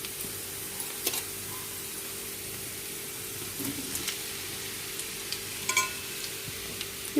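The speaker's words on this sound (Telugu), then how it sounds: "ఇప్పుడు మనం ఇక్కడ ఫ్రై చేసుకోండి ఇట్లా కాకరకాయని ఇందులో వేసుకుందాము." Bitter gourd frying with onions in a pan, a quiet, even background sizzle with occasional faint stirring clinks and scrapes, no voices.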